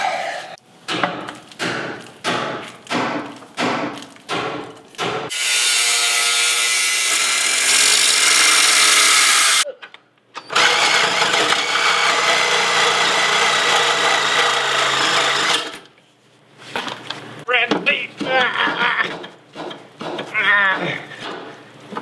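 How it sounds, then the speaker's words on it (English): A cutoff wheel grinds through a metal bracket during a Rough Country long-arm suspension install. A few knocks come first, then two long, harsh, steady cutting bursts, followed by a voice-like sound at the end. "time for a new cutoff wheel"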